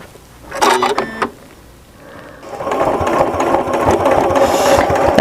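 A sewing machine stitches along the folded edge of a fabric shop bag, first a short buzzing burst, then after a brief pause a longer, steady run of motor whir and needle chatter, close and fairly loud.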